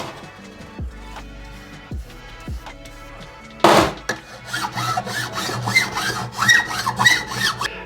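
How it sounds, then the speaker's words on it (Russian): Hand file working a silver panzer-style jewellery chain, first in sparse separate taps and scrapes, then a loud strike followed by a dense run of rhythmic rasping file strokes, close up with no talk. "И сейчас начну потихоньку все это дело проходить напильником."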